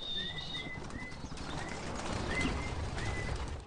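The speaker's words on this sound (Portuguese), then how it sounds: "solta as aves e elas ficam revoando a região da casa por volta de uma hora" Racing pigeons circling around a house, with a soft continuous flutter of many wings and a few faint thin calls over an outdoor background.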